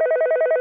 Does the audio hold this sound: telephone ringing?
yes